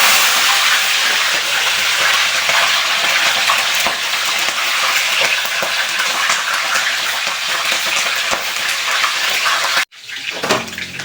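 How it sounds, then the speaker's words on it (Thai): Kaffir lime leaves and lemongrass fry in hot oil with a loud, continuous sizzling hiss that holds steady, then cuts off abruptly near the end, leaving a softer sputter. "หลังจากเฮาทอดใบมะกรูดกับตะไคร้"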